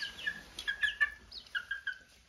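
Small chicks peeping thinly while being offered drinking water, a scatter of high, short cheeps and chirps in quick clusters, close but quiet against an otherwise still background.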